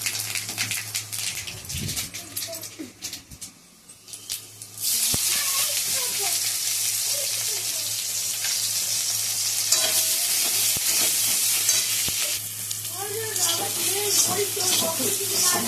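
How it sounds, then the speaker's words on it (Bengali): Panch phoron and dried red chilies hit hot oil in a kadai, bursting into a loud, continuous crackling sizzle that holds steady with occasional stirring scrapes, after a quieter stretch with faint background sounds. "কড়াতে তেল দিয়ে দিয়েছি, তেলটা গরম হয়েছে, ফোড়নে 5 ফোড়ন দিচ্ছি, শুকনো লঙ্কা,"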